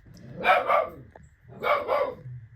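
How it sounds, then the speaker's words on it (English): A dog barks in two separate bursts of several loud, close barks each, with a short quiet gap between them, heard indoors in a room full of houseplants. "Sorry if you can hear the dog barking."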